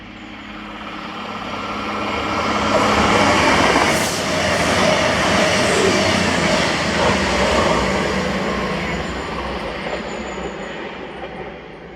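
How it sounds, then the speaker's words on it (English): A cross-country passenger service from Edinburgh to Glasgow Central passes Kirknewton station, a loud continuous roar of wheels and rumbling carriages that builds, holds for several seconds, then slowly fades as the train moves away. "this was 1Z31, the 11:25 cross-country service to Glasgow Central from Edinburgh"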